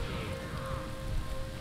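Steady rain hisses across a battlefield in Battle for Middle-earth, an even, continuous wash of falling drops with no voices over it.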